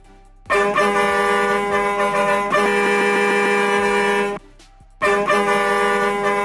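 A bus horn sound mod in Bus Simulator Indonesia blares in long loud harmonic blasts, two sustained honks separated by a short gap, then a third starting, with no talking.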